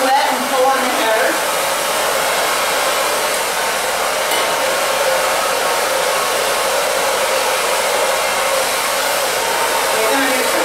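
A hair dryer blows steadily and loudly at close range while styling long hair, a constant broad whoosh with no pauses or speech.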